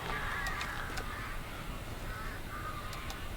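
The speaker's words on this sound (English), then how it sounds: "Just a couple birds." Crows caw in a dark outdoor scene of the Alan Wake Remastered game, a few harsh calls rising over a steady wind-like ambient hiss.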